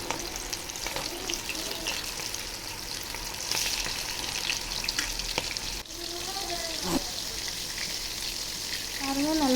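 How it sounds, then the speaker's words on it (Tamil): Prawns coated in egg white deep-fry in hot oil in a kadai for Prawn 65, giving a steady, close crackling sizzle throughout with a few faint tonal sounds over it. "பாருங்கள், நல்லா பொரிஞ்சு வருது."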